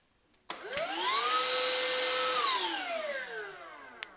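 A Black & Decker Ora stick vacuum cleaner on a PVC floor switches on with a click, whines up to a steady high-pitched motor tone, then winds down, ending with a sharp click.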